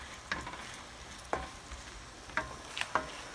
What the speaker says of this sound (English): you just simmer it until it starts to get soft and the onions are more clear